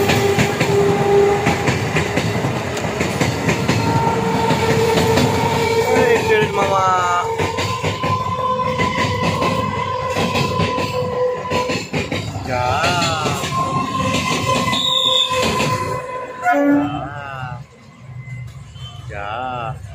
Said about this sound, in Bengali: ট্রেন দেখাবো, ওই ট্রেন